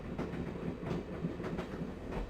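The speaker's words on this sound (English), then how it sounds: "So we're now on the train." Steady rumble and rhythmic clickety-clack of a moving train carriage in the Broken Sword: Shadow of the Templars adventure game, an even, continuous ride noise with no voices.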